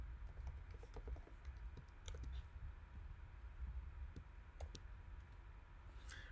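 Quiet, irregular clicks of keys being struck on a computer keyboard, short bursts of typing separated by brief pauses, close and faint with no talking.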